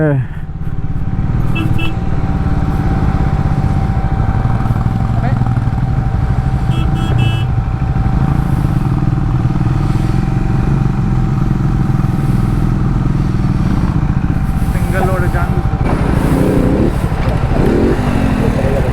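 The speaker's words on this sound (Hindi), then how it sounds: "ट्रैफिक है यार" Road traffic in India streams by on a busy road, with motorcycles and cars. A constant loud engine drone comes from nearby bikes and vehicles, with occasional horn tones, scattered clatter and rising revs, and a voice talks now and then.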